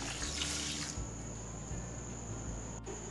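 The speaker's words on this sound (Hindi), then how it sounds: "अभी हम एक गिलास पानी डालेंगे" A glass of water poured into a pan while making rose syrup with sugar, a steady close splashing stream that runs briefly and then gives way to a quieter continuous trickle, with no talking.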